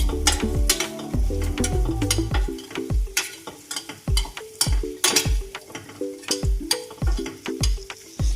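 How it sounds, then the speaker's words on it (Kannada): Paneer cubes seasoned with turmeric, chili powder and salt fry in a pan, a constant loud sizzle broken by repeated sharp clinks and scrapes of a spatula stirring, with no voices. "ಇದನ್ನು ಜಾಸ್ತಿನೂ ಫ್ರೈ ಮಾಡ್ಕೋಬಾರ್ದು, ರಬ್ಬರ್ ಥರ ಆಗೋಗುತ್ತೆ, ಬೇಗ ತಕ್ಕೊಂಡ್ಬಿಡ್ಬೇಕು."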